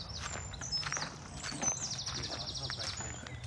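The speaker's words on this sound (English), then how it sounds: "Can you hear the birds cheeping?" Birds cheep and chirp outdoors on a morning walk around a Norfolk market town, high repeated twitters over steady street ambience and footsteps, fairly faint.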